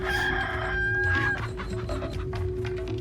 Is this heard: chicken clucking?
yes